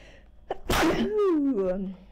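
A single sharp sneeze with a brief inhale before it, followed by a short voiced groan, close to the microphone.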